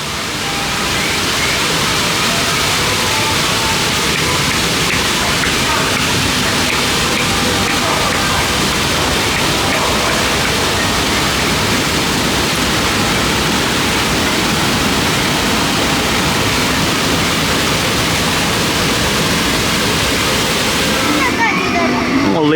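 A waterfall at Shanghai Disneyland's Adventure Isle roars steadily and loudly in the evening, a broad, unbroken rush of falling water that holds constant throughout.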